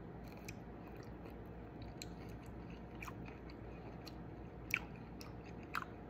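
Someone chews and bites mango at breakfast, soft wet munching close to the mic with a couple of sharper bite clicks near the end, no talk.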